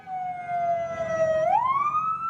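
A police siren wails steadily close by, then its pitch sweeps upward into a rising tone near the end, loud and continuous.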